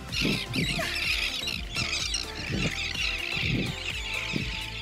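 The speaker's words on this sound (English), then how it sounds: "there's so many birds." A large flock of birds squawking and honking close by, goose-like calls overlapping in a busy, continuous chorus with repeated low honks throughout.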